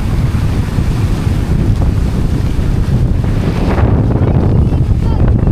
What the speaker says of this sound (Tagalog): Laki pa rin ang alon dito ayo.